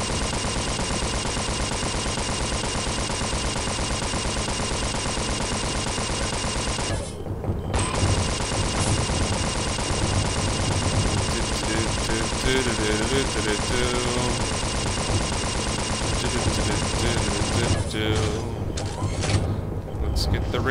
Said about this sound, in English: let's blow our stinger ammo